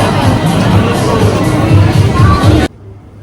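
A dense crowd murmurs at the London Eye entrance, a loud close babble of many voices that cuts off abruptly near the end.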